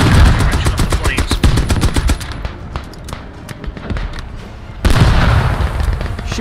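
Automatic gunfire in the military shooter game Squad, with dense, rapid bursts close by alongside heavier booms, a brief lull, then another loud barrage toward the end.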